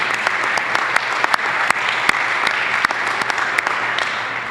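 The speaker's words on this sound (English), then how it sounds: "Please give him another round of applause for all of his hard work." Steady, dense applause from a crowd at a community healthcare event in Union City, with sharp individual claps standing out across the whole stretch.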